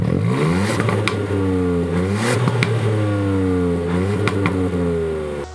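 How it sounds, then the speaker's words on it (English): A Ford Puma ST's twin-exit exhaust revs up and down repeatedly, loud and close, with crackles and pops between the rising engine notes. "Twin exit exhaust, cue exhaust noise."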